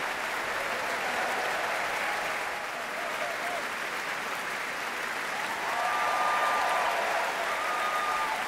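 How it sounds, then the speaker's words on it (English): A full house applauds steadily at the Royal Albert Hall during the Proms, broad sustained clapping from a large crowd with a faint voice briefly over it. "some of the musicians acknowledging the applause of the full house here"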